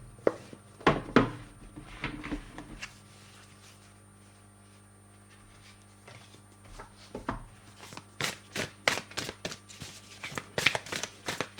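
Oracle cards being shuffled by hand, a run of quick papery riffles and slaps near the start, a quiet pause, then denser bursts of card shuffling toward the end, with no talking.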